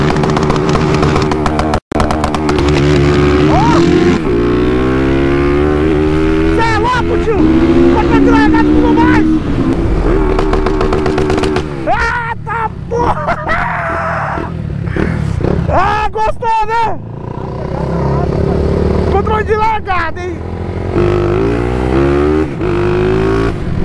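A Honda Fan 160 motorcycle engine runs loud and close, its pitch climbing and dropping through repeated revs and acceleration, with someone talking over it throughout.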